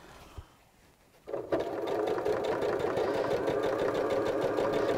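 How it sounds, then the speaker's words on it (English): A sewing machine stitches quilt binding along the edge, starting after a quiet moment and then running steadily and close for several seconds with a fast, even mechanical whir. "we're just going to start sewing down here right on the edge."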